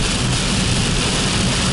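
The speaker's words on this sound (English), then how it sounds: "I didn't think it was gonna rain like this." Heavy rain drums steadily on a car during a drive, a dense, continuous roar of downpour with low road rumble underneath, loud and unbroken throughout.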